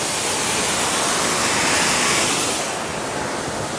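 Steady, loud, dense hiss of a high-pressure water jet from a hose at about 1,300 PSI, roaring without a break and easing slightly near the end, with no talk.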